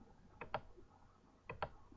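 Computer mouse clicks in pairs while someone traces a polygon lasso selection, two quick double clicks spaced about a second apart, close and crisp over a faint room background.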